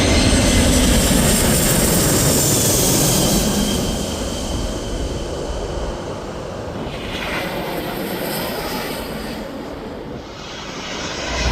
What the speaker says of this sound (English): Looks like we got an Airbus 340.